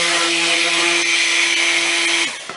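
A stick blender mixes soap oils and butters with kale and clay, giving a loud, steady motor hum for about two seconds before it winds down and stops.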